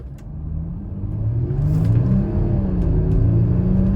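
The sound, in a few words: 2008 Audi Q7 engine accelerating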